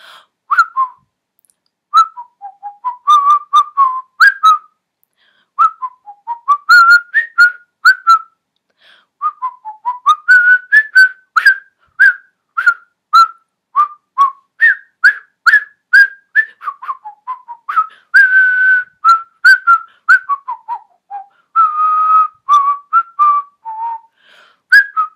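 A single person whistles a lively melody alone, with short bright notes in a quick, varied rhythm and brief pauses between phrases.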